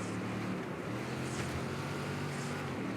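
Racing car engine in the Baja off-road racing video game drones steadily and evenly, with a broad rushing noise and no voices.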